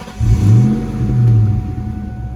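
A 2004 Ford Mustang SVT Cobra's engine catches and revs twice in quick swells, a deep, throaty rumble close by, then settles to a lower idle.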